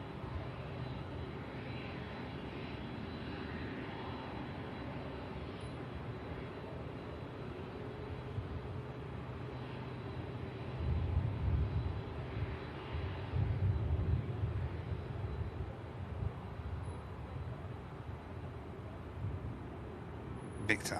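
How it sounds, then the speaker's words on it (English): Airbus A380 departing Manchester Airport from an intersection rather than the full runway length: a distant, low, steady jet rumble that swells gradually into a heavier roar midway and stays fairly faint throughout, with talk underneath. "Victor Bravo departure for the 380."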